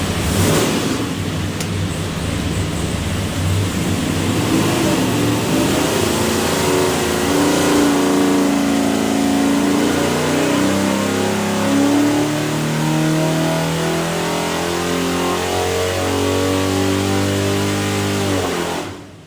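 A 489ci big block Chevy with an Edelbrock Air Gap intake, carburetor and roller cam roars under load on a dyno, a loud steady engine note whose pitch climbs through the whole pull before cutting off at the end.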